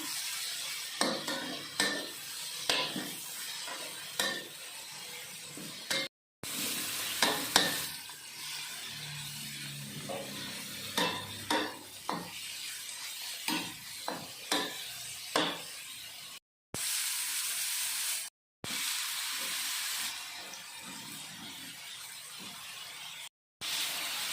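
Eggs frying in oil in a pan for a Thai pork basil stir-fry, a steady close sizzle and hiss broken by scraping stirs and a few brief gaps, with no talk.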